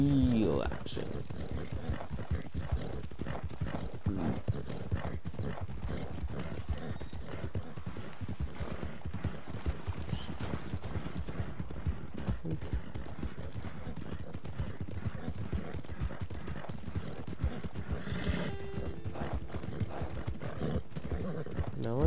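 Horse hooves clip-clop at a steady walking rhythm in the video game Red Dead Redemption 2, close and continuous throughout, with a brief whinny and a voice speaking over it.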